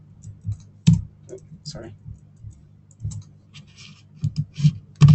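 Typing on a computer keyboard, scattered clicks and keystrokes in uneven bursts close by, with a person speaking briefly in between.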